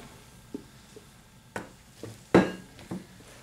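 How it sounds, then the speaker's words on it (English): A spatula scrapes keto bread batter off the sides of a mixing bowl in a few separate scrapes and light knocks, fairly close and moderately loud, with no voices. "Scraping it off the sides there."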